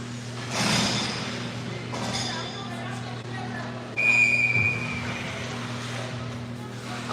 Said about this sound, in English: once Temiskaming touches it, the whistle goes